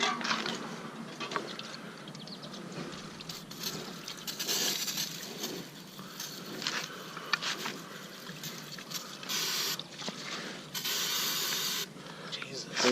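A spray nozzle hisses in bursts during work on a Mercedes 190E with a welded differential, broadband spray sounds rising and falling, with people talking intermittently nearby.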